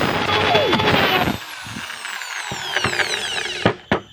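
A drill widens a hole while a honey suction machine for stingless bees is being built, whining loudly for about a second before stopping, followed by scattered clicks and clanks of metal at close range.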